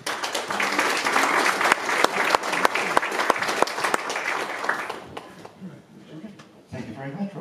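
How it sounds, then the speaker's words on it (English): Audience applause fills a bee group meeting after a talk on bioactive Leptospermum and manuka, a steady loud clapping for about five seconds that then fades, with faint voices afterward. "a bit of a round of applause for Rob."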